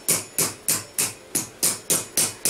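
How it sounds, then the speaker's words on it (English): Nine evenly spaced hammer taps on the edge of metal armour, sharp and bright with a short ring after each, steady rhythm, close by with no voices. "start the curve off with the hammer on the edge here"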